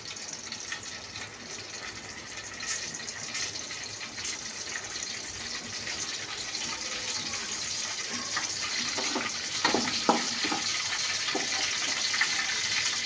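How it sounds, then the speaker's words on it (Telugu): Cumin and mustard seeds hit hot oil in a pan, giving a steady, close sizzling hiss with a few sharper pops and crackles near the end. "ఆయిల్ పోసుకోవాలి. తర్వాతకి జీలకర్ర ఉన్ను ఆవాలు వేసుకోవాలి."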